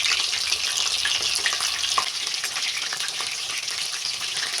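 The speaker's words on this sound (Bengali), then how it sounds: "দেখুন আলাদা আলাদা হয়ে সুন্দরভাবে ভাজা হচ্ছে" Chicken pieces fry in oil for chili chicken, a steady dense sizzle and crackle that holds at an even level throughout, with no voices.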